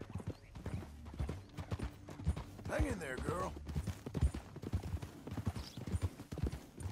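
A horse in the Red Dead Redemption 2 video game clip-clops at a steady rhythmic trot, with a brief whinny partway through and someone speaking over the hoofbeats.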